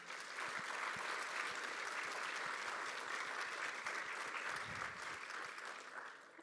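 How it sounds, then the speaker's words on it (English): An audience at a university startup showcase applauds steadily, with dense, sustained clapping filling the room for several seconds before it tapers slightly. "I'm going to give you a big round of applause"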